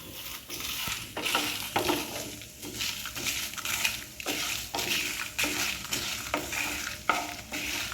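Byadagi and Guntur dried red chillies dry-roasting in a pan, with steady scraping and stirring strokes, light crackle and repeated rhythmic scrapes of a spatula against the metal, close and alone without talk.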